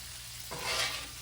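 Steak with peppers and onion sizzles in a skillet. A brief frying hiss swells partway through and then eases off, close by, with no speech.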